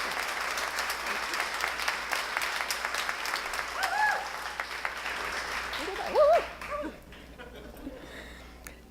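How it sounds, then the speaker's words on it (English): A school audience applauds its teachers at an academy of fine arts dedication and open house, steady clapping filling the room for several seconds with a few whoops and cheers rising near the end. "we gave you a round of applause once, but let's whoop it up some more"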